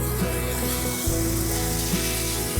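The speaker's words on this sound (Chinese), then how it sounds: "现在我们把青红椒放进去， 稍微炒一下。" Green and red peppers stir-fried in a wok with green beans, a steady loud sizzle with a few soft scraping stirs beneath it, no voices.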